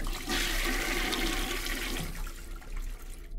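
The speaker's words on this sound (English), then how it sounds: "I just went and flushed it" A toilet flushes in a Shrek-themed indie horror video game: a steady, loud rush of water that runs throughout and then starts to thin out near the end, with no talking over it.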